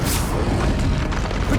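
A short muffled fiery burst from casting the Incendio fire spell in Hogwarts Legacy, a dense low rumble lasting about a second and a half.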